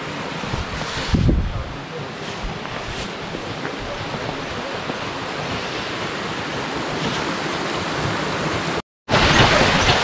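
Icy meltwater running down from the snowy mountains near Muktinath, Nepal: a constant rushing wash of flowing water with wind noise on the microphone, a short louder gust early on and a brief dropout near the end.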